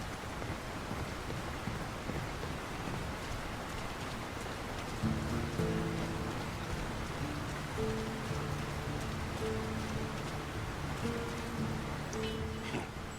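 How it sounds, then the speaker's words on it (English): Steady rain falling over a town in the video game Lord of the Rings: War in the North, a constant hiss of drops with soft musical tones drifting in partway through. "Who could live in a town where it's always raining?"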